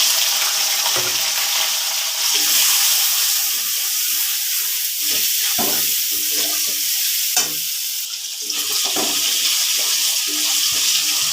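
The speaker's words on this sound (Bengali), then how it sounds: "এবার কেটে রাখা আলুতে হলুদ লবণ দিয়ে দিয়েছিলাম, এগুলো দিয়ে দেবো" Cut potatoes coated in turmeric and salt fry in a hot pan with a steady, loud sizzle, broken by scraping stirs and clinks throughout, with no talking.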